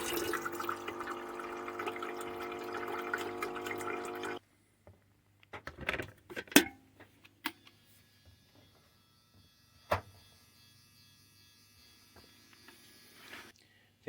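Electric kettle rated at 1400 watts heating water inside a camper van: a steady rushing hiss for about four seconds that then cuts off, followed by scattered quiet clicks and knocks in a mostly still space.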